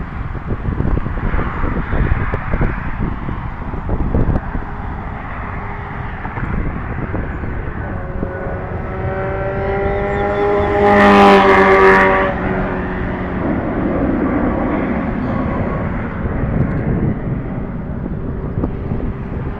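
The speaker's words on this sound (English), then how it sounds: "Southwest is taxiing right now" A Southwest Airlines airplane taxis at Harry Reid Airport, a steady jet engine rumble and whine that swells midway under constant wind buffeting on the microphone, heard from outside at some distance.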